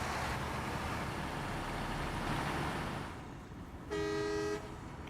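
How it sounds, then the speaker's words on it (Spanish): The Azov 67096 Atom truck in the video game SnowRunner sounds a single short horn blast near the end, loud and close, after a stretch of engine and ambient noise. "La bocina"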